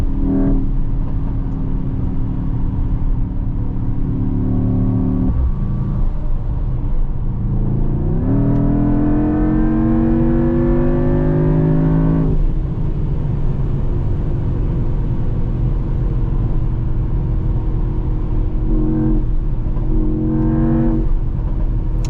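An 843 hp hybrid V8 GT63 on a German autobahn drones steadily, then revs up with a rising, climbing pitch before easing back to a sustained cruising hum.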